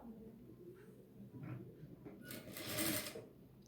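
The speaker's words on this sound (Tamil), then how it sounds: "இப்போது 1/4 இன்ச்சுக்கு இது ஓரமாகவே ஸ்டிச் பண்ணுறோம்." A sewing machine stitches a blouse hip band a quarter inch from the edge, with a short, quiet whirring run followed by a louder, brief burst of rapid stitching.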